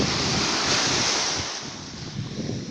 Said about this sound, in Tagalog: Ito ang dagat sa kanila, ang linaw